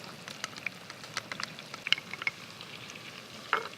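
Crayfish cooking with smoked paprika in a pan, giving a soft, steady sizzle with faint crackles and a few sharper pops, close and alone.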